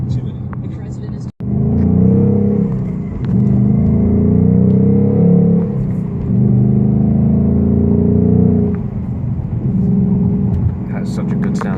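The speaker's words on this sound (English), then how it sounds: "Has such a good sounding engine. Yeah. Good throaty roar." A car engine roars steadily and loudly, rising and falling in throaty surges, with a brief sharp click near the start.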